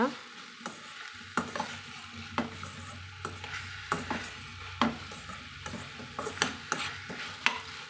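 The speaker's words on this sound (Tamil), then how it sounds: "எண்ணெயில் ஒரு வதக்கு வதக்கி விட்டுட்டு நம்ம கலந்துட்டுக்கலாங்க" Pallipalayam chicken sizzles in hot oil in a pan as a utensil repeatedly stirs and scrapes it, giving quiet, close, irregular clinks over a soft, steady fry.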